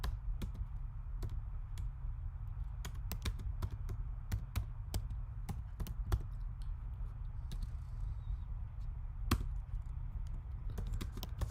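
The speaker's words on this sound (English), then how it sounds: "And type in your zip code." Sparse, irregular keystrokes on a computer keyboard click sharply in a quiet room, close and clear, with uneven pauses between taps and no one speaking.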